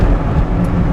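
Cabin noise inside a Toyota MR2 fitted with an aftermarket exhaust, heard as a loud, steady low drone and road roar with no breaks for the whole moment.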